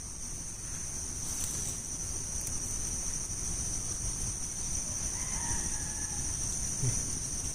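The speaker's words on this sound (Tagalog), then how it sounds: "Maraming mga labuyo na manok, no?" A wild junglefowl rooster crows faintly in the distance on a mountainside over a steady outdoor hum of insects, with no talking.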